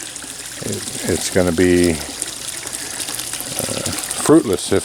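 Water runs steadily into a dug pit lined with rocks, a low continuous trickle and gush heard close by beneath someone speaking.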